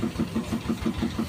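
A freshly serviced motorcycle engine runs at a steady idle, its close, even thumping beat repeating rapidly throughout.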